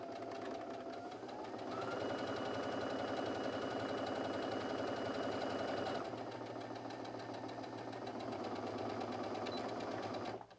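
Domestic sewing machine running a straight topstitch along the folded top edge of a fabric pocket organizer, a steady rapid whirring hum for about ten seconds, with a slight change in pace midway before stopping abruptly.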